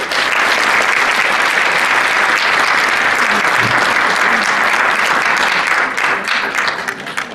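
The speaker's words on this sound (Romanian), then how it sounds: "Aplauz!" A large audience applauds steadily and loudly at a Romanian stage event as a young performer is welcomed on, sustained clapping that fades slightly at the end.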